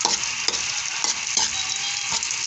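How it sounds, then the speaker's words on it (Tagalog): Ginger sautéing in a hot pan for a bitter gourd dish, a loud continuous close sizzle with periodic scraping stirs every half second or so, no voices. "Nagigisa na tayong nagigisa guys."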